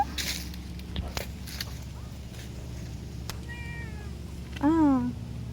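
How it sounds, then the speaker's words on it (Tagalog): A cat on a farm meows twice, a short faint call followed by a louder, closer drawn-out meow, over background noise with scattered knocks and footsteps. "Oh, may pusa din."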